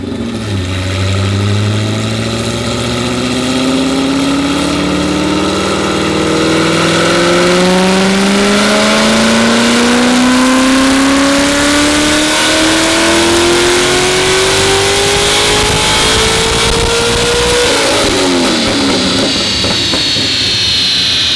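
An LS7-powered Corvette C6 Z06 on a Dynojet dyno makes a loud full pull, engine pitch climbing steadily for about seventeen seconds before abruptly lifting off into a lower, unsettled drone.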